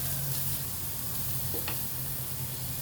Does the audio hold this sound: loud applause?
no